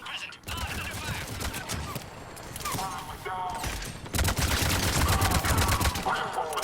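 Battle gunfire in the video game Mass Effect 3, sustained automatic weapon bursts and clattering shots mixed with mechanical noises, intensifying toward the end.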